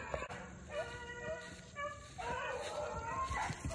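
A pack of beagle hounds on a hunt bays and yelps at a distance on a fall morning, overlapping howls rising and falling, with someone speaking nearby over the outdoor noise.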